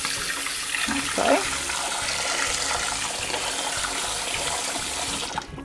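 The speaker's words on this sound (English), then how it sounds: "And then we're going to fill it up with just nice cold water," Cold water gushes steadily from a sink tap into a pot that held boiled eggs, a continuous loud hiss and splash with a brief clank of the pot, while a person says a few words over it.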